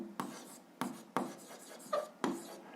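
A pen scratches on paper in a series of five or six short, quiet strokes at an unhurried, steady pace, close and alone.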